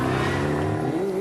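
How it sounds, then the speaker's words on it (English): Big Lola ex-Formula 5000 racing car accelerating hard up the Shelsley Walsh hillclimb, a loud, steady engine roar with rising pitch that fills the whole moment, close and unbroken. "Yes, here comes Roger Deans in the big Lola, this ex-Formula 5000 car, I believe."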